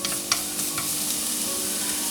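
Scallions sizzle in a little olive oil in a wok over low heat, a steady, close frying hiss with a few faint stirring clinks.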